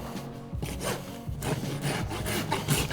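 A farrier's rasp trims and bevels the outer wall of a horse's hoof in a barefoot trim, giving close, rough scraping strokes that repeat in a steady back-and-forth rhythm.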